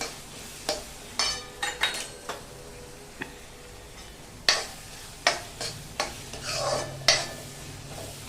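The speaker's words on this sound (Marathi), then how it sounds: "आलं, लसूण आणि मिरची याची पेस्ट याच्यात घालायची आणि छान परतून घ्यायचं" Ginger, garlic and chili paste is sautéed with tomatoes for Bombay-style pav bhaji: a soft sizzle runs underneath while a spatula scrapes and clacks against the pan in irregular, close strokes.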